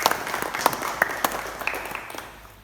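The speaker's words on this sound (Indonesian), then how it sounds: "Tepuk tangan bagi kalian semua." A classroom of students gives a short burst of applause, scattered claps up close that thin out and fade over a couple of seconds.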